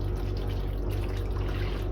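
Hot water poured into a pan of chicken, a steady low splashing pour that runs continuously for a couple of seconds, close and fairly loud with no talk.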